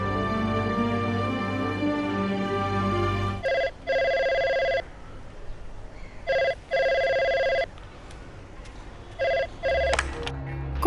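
An electronic telephone ring repeats in short double bursts, loud and close, after a stretch of music; no voices.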